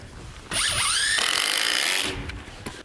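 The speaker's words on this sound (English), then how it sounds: "Can you have that drill there, Kyle?" A cordless power drill whines up loudly and close for about a second and a half while driving a treated screw into lumber for post-frame garage rafters, then stops, followed by faint handling knocks.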